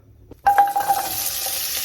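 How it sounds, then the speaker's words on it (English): Loud, steady sizzling of carrots, onion and celery hitting hot oil, starting abruptly after a quiet moment and continuing as a dense crackling hiss. "A lot of sizzling, Johnny."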